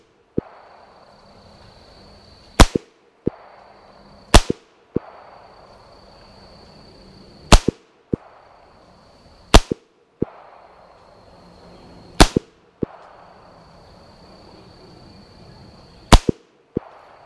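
Sharp single shots from a Beretta U22 NEOS .22 pistol at an outdoor range, each loud crack spaced a second or two apart with smaller clicks and handling noises between, about a dozen reports in all.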